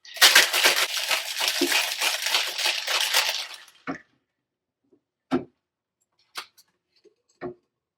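A rum cocktail with grenadine and ice is shaken hard for about four seconds, a dense rattling of ice in a shaker, followed by a few sparse clinks and taps in near silence.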